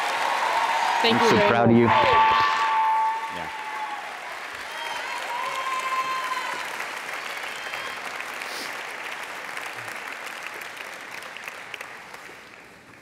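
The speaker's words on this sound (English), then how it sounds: "would you give her one more round of applause" A chapel audience applauds steadily and at length, a dense wash of clapping that carries on under a few spoken words near the start and slowly thins toward the end.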